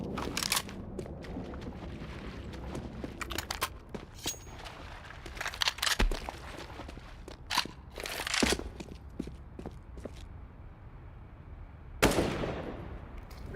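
Mac-10 submachine gun fire in Counter-Strike, sharp bursts and single cracks scattered across the stretch, some clustered rapid volleys, with game ambience between and a final loud burst near the end.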